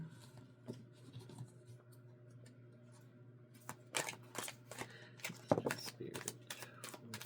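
Tarot cards are shuffled and drawn at close range, with soft papery rustles giving way to a burst of sharp scraping slaps and flicks in the second half, all fairly quiet.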